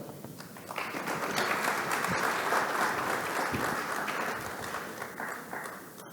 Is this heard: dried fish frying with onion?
no